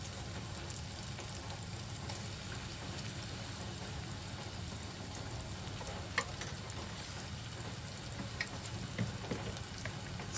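Green masala paste sizzling and frying in a pan with softened tomato for a fish curry, a steady close crackling hiss throughout with faint stirring clicks.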